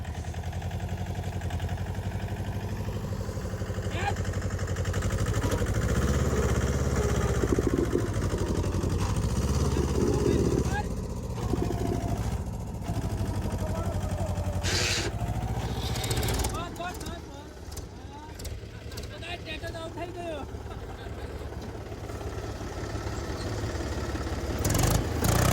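A mini tractor engine runs on a farm field with a steady, loud low rumble throughout, while people talk over it and the tone shifts briefly partway through.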